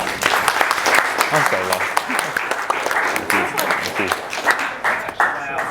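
An audience claps and applauds after a debate speech at a Toastmasters club meeting, dense steady clapping with a speaker's voice talking over it.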